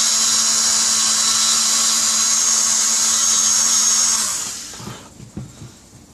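A power sander works on a part for an HK G3 Tippmann A5 paintball build, a loud steady high whine with a low hum beneath that winds down after about four seconds into a few handling knocks, nearby with no talk.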